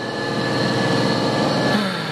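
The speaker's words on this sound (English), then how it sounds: "So it does quiet it down, but it is a free flowing exhaust" Turbocharged tractor engine running with a free-flowing exhaust that has had its center baffle knocked out, giving a steady, loud, continuous drone close by, with no talk.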